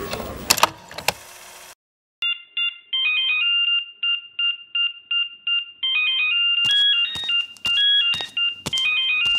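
An incoming call on a phone gives a loud, close electronic ringtone: a repeating melodic pattern of short beeps that follows a brief burst of clattering noise and a moment of silence.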